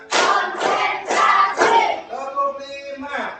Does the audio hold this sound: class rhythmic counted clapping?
yes